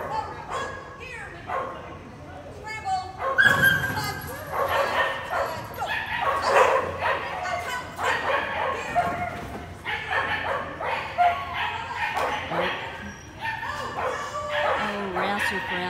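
At an elite agility competition, a dog gives repeated yips and barks, with a commentator talking over the ongoing noise of the event.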